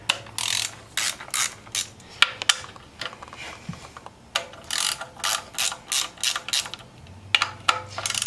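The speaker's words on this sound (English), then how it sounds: "Next, we're gonna take these coil bolts out." A ratchet loosens the ignition coil bolts on a Toyota 2.4 engine, with quick bursts of clicking pawl strokes repeated in a steady rhythm, close and clear, no talk.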